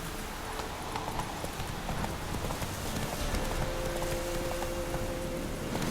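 Roach, Geralt's horse in The Witcher 3, gallops with a fast, repeating hoofbeat under a dense wash of ambient noise, fairly close and steady throughout.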